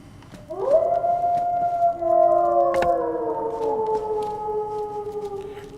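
Dogs howling in a video game, several long overlapping wavering howls that rise and slowly fall, clear and fairly close over a quiet background with one sharp click partway through.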